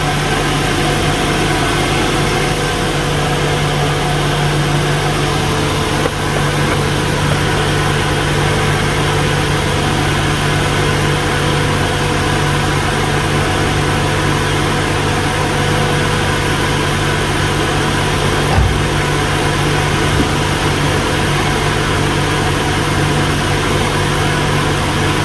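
A Honda Ballade with a swapped-in B20 VTEC engine idles steadily, producing a smooth, quiet, constant hum with a low drone and no change throughout.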